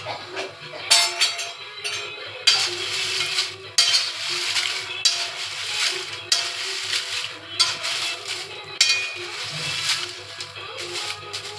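Whole spices are dry-roasted in a pan for homemade masala, a spoon scraping and stirring them in repeated rattling bursts that rise and fall steadily for about eleven seconds, close and moderately loud without talk.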